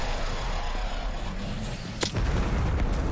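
A nuke detonation in the browser shooter Krunker.io, a single sharp crack followed by a loud, rumbling low boom that swells and sustains over background game noise.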